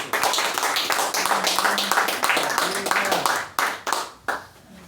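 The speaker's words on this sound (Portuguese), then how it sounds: "uma salva de palmas para Cristo" A church congregation claps together during a worship meeting. The clapping is rhythmic and close, runs for a few seconds with some voices mixed in, and trails off into scattered final claps.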